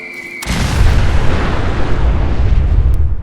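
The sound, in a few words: cluster rocket explosions from RPG-7V2 mod in Fallout 4 video game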